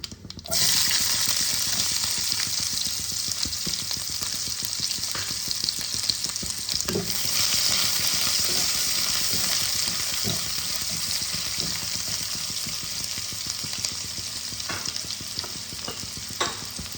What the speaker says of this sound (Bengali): কুচিয়ে রাখা পেঁয়াজগুলো আমি দিয়ে দিলাম।